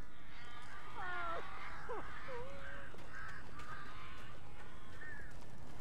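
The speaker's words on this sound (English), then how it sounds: "Oh, so many birds." Crows caw in the video game Alan Wake, several harsh calls bunched together and then a few scattered later ones over a constant windy ambient background.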